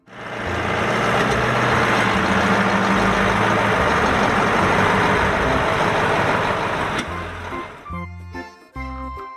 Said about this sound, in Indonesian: Dump truck.